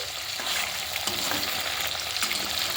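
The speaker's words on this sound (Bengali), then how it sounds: "ভালো করে মাছগুলো আগে আমি ভেজে নেবো" Pieces of oily sea fish (aar fish) fry in hot oil, giving a loud, steady sizzling hiss with scattered crackles and a few stirring or turning clinks; no voices.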